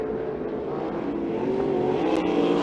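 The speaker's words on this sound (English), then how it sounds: "Rich Bailey off of turn number 2 puts a lap on Sheldon Bender" Sprint cars race around the Electric City Speedway during an ASCS Frontier Region event, producing a steady mid-distance engine drone that rises slightly in intensity, with no voices.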